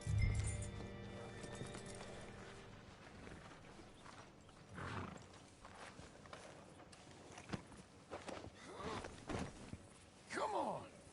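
Horse hooves clopping on ground with snorts and a sharp whinny near the end, set among scattered thumps and voices talking at moderate distance.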